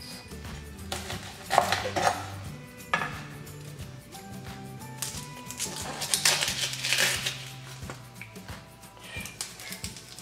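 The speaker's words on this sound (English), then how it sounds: "we're gonna start dicing this into small little cubes" A knife dices food into small cubes on a cutting board in a small kitchen, with close irregular taps and thuds of the blade, some clinks of utensils mixed in, fairly quiet overall.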